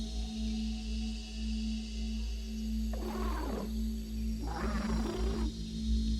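A firefly creature in the survival game Grounded gives two separate rough, roaring bursts over a steady low hum, each lasting about a second, with a short gap between them.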